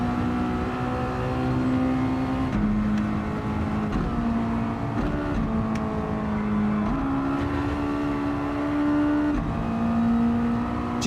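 A Mazda race car in Gran Turismo 7 drones at steady high revs, its engine tone climbing and dropping slightly across gear changes, loud and continuous with no voices.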